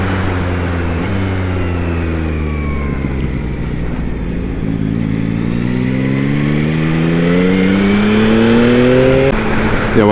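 A Yamaha MT-09 SP motorcycle is ridden on the road, its engine note dropping through downshifts and then climbing in rising revs as it accelerates hard, loud and close over steady wind rush.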